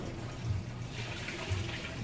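Motor oil and flush pouring out of a 2019 Mustang GT 5.0 during an oil change, a steady, faint liquid gush like running water that continues for two seconds without talk.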